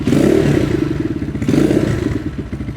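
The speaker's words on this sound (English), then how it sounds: "let's start it up so you can hear how it sounds, how that modified exhaust sounds" A modded Gryffin 250 motorcycle with an aftermarket exhaust runs loud and close, with a rowdy, thumping, lumpy idle and a brief rise in revs partway through.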